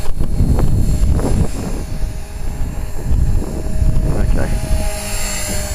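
A small 450-size RC helicopter hovers low nearby, its whining rotor drone rising and falling in pulses while a voice briefly speaks.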